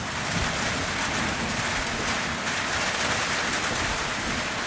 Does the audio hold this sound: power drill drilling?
no